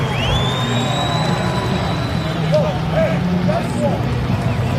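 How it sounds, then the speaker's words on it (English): Large crowd at a sunny college lacrosse quarter-final in Annapolis, a broad steady roar heard under a commentator's continuous talk, with a whistle sounding early on. "Massive crowd here today."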